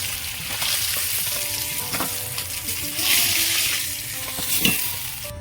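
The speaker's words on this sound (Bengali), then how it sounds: "বাকি মাছগুলো ভেজে নেবো" Pieces of pangas fish fry in hot oil, giving a steady close sizzle with crackling pops and brief clinks of a utensil against the pan, with no talking.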